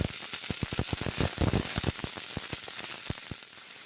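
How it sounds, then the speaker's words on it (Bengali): Cauliflower florets frying in sautéed spices, giving a faint, busy crackle of quick pops and spits that patters on steadily like light rain. "কষে নেওয়া মশলার সঙ্গে ফুলকপিগুলো ভেজে নেব।"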